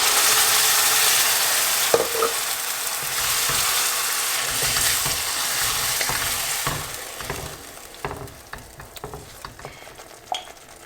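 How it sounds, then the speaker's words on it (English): Tomatoes go into golden brown onions in a pan for a minced lamb and pea keema curry, giving a loud, continuous sizzle with stirring scrapes that settles into quieter frying and scattered clinks. "Now my onions have turned a nice golden brown color, so I'm going to add my tomatoes in here."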